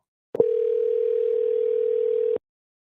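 A steady telephone dial tone sounds on a line while a call back is placed, starting abruptly, holding one continuous pitch for about two seconds, then cutting off cleanly, with no voices.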